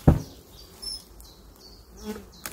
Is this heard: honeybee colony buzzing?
yes